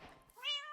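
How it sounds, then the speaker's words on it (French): A cat in the Minecraft video game gives a single short, rising meow that follows brief soft game noise. "Oh, un chat."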